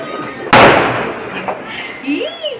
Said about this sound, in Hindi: अब हम पटाखे छुटा रहे हैं